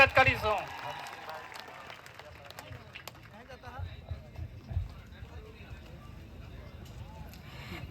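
A rally crowd claps to welcome the wife of Chaitarbhai Vasava as she comes up to speak at a tribal public meeting; the clapping is fairly distant and mixed with voices and crowd murmur throughout.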